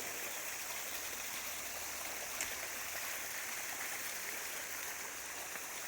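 Hillside waterfall and stream rushing steadily, a loud, even hiss of flowing water heard close up and uninterrupted, with no voices.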